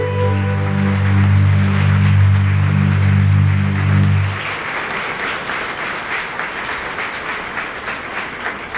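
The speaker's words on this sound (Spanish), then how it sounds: "Un aplauso al Rey de Reyes y Señor de Señores." Congregation applause during a prayer service before the Blessed Sacrament, a dense patter of many hands clapping that rises as sustained music fades out midway and continues steadily on its own.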